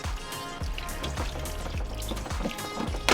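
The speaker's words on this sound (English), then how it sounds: "There goes our fresh water." Fresh water gushes steadily from a freshly cut supply line aboard a sailboat during a watermaker installation, a close, continuous splashing pour with no voices.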